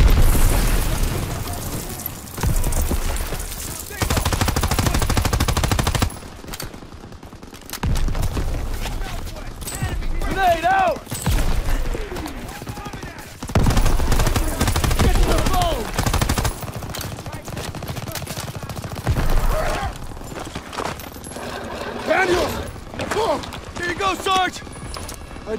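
World War 2 combat in a video game: heavy bursts of gunfire and booming explosions alternate with quieter gaps, loud and close, with shouting voices mixed in.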